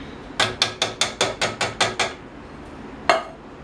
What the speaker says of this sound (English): I'm going to get a spoon here. Give it a little bit of a stir.